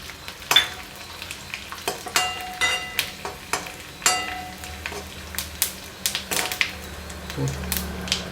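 Onions, garlic and curry leaves sauté in a pan for a tamarind-style kuzhambu, with a soft steady sizzle broken by many sharp crackles and pops from the tempering, fairly close and moderately quiet.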